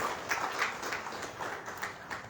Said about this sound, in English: put your hands together to a thunderous applause